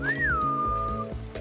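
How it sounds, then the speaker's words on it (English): A player character in the Ghost of Tsushima video game gives a loud, clear whistle that rises and then holds a long steady tone to call a horse, over game music. "it's a quick whistle to bring the beast over instantly"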